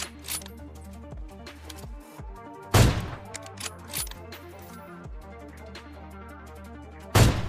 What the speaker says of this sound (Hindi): मैं काफी सारे ना AWM के शॉट मिस भी करता हूं